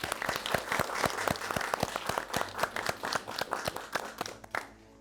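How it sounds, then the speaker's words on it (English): An audience gives a warm round of applause at a crafting event, sharp close claps in a steady rhythm that thin out and stop abruptly near the end. "so let's give them a big round of applause"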